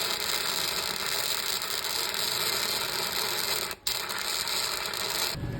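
A Harbor Freight Titanium 125 welder welds a nut onto a locking lug nut, giving a loud, steady crackling buzz that runs nearly without pause, with one brief dropout and a sudden stop at the end.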